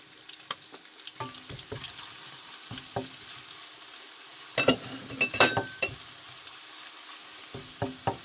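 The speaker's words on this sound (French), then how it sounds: "Le gras a fondu. Je mets de l'ail." Garlic fries in melted fat with a soft, steady sizzle, broken by scattered clicks and scrapes of stirring in the pan. A busier cluster of taps comes midway, and nobody speaks.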